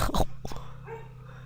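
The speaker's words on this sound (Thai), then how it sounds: "โอ้ยหมานี่มันก็เห่า" A dog barks in a game scene: a short burst of loud barking at the start, then a steady low hum continues underneath, with one more brief yelp partway through.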